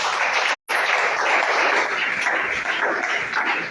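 A church congregation cheers and applauds loudly, a dense, steady wash of clapping and voices with a brief dropout near the start.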